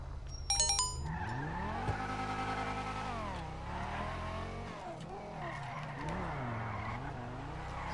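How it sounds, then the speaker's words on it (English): A car drifting around a garage, with tire squeals rising and falling in long wavering sweeps over engine noise, after a few sharp clicks at the start and no talk. "Now I'm gonna drift around the garage once."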